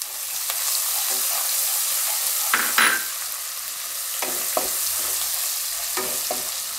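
Green chillies and green garlic sizzle hard in hot oil in a pan, a dense, loud hiss with a few sharp scrapes and knocks of a spoon stirring.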